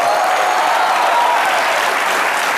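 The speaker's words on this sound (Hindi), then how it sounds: "इसके लिए जोरदार तालियां" Loud, sustained applause from a television comedy show studio audience, dense steady clapping with a hint of cheering that holds at full strength throughout.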